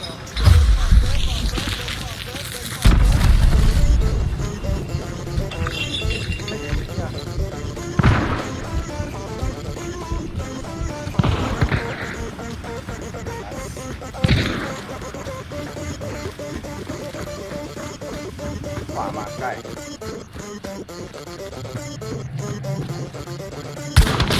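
Explosions and gunfire in the first-person shooter game Hunt: Showdown: several heavy booms and sharp blasts scattered through the clip, loud and close, amid busy game sounds.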